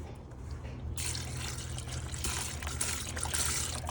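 Water poured over carp fishing bait in a container, a soft trickling and splashing pour that starts after a brief quiet moment and runs on steadily, close and fairly faint.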